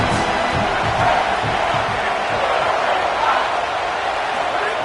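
Football stadium crowd roars loudly and steadily in a sustained wall of noise while the opposing offense lines up, with faint voices blended into the din throughout.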